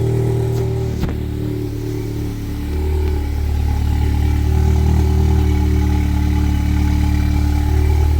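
A car engine idles steadily after an intake manifold replacement, a loud, even, close-up hum with a faint click near the start and a slight rise in level partway through.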